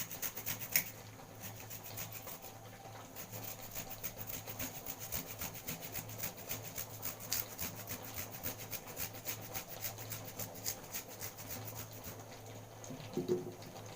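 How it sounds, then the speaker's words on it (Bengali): Fresh ginger is grated by hand in a kitchen, giving a quiet, steady run of rough scraping strokes with a few small clicks and knocks. "একটু আদা ঘষে যে আদা ওদের একটু দিয়ে দেবো"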